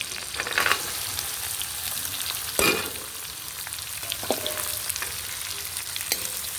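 Finely chopped onions sizzle steadily in hot oil for a Punjabi creamy onion sabzi, with a loud scrape-and-clatter of stirring near the middle and lighter spoon knocks scattered throughout.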